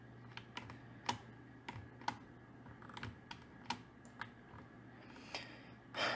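Rapid, irregular keyboard clicks as the WASD keys are pressed while playing the Roblox game Gravity Shift, about a dozen sharp, close taps over several seconds with a brief louder clatter at the end.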